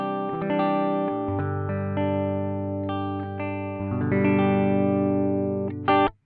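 A Gibson ES-335 electric guitar plays clean sustained chords through a bypassed BOSS FDR-1 pedal into a Koch Pedaltone tube preamp, ringing out smoothly, with a short final strum that cuts off abruptly.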